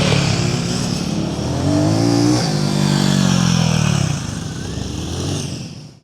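Motorcycles circling a flat track at an easy pace, the engine drone loud and close, rising and falling steadily as the bikes lap and then fading at the end.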